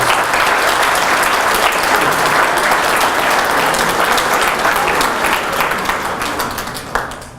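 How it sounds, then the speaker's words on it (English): An audience at a book launch bursts into loud, dense applause that holds steady for several seconds, then begins to thin and fade toward the end. "a round of applause"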